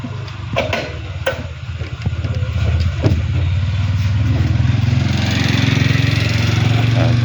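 A Kubota RT 90 walking tractor hauling a large-wheeled trailer, its engine running steadily and loud up close with a rising drone, with faint voices early on.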